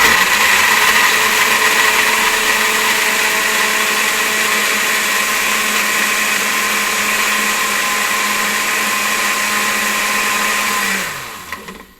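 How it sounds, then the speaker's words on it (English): A blender crushing ice into a slushy tropical drink, a loud continuous whirring grind that runs steadily close by for about eleven seconds, then winds down as the motor stops, with no talking. "I am going to give this a nice solid blending here"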